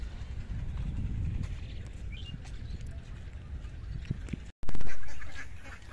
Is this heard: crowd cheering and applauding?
no